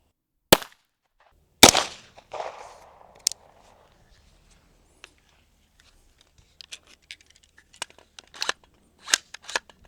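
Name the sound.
9mm gunshots from a custom AR9 into wheat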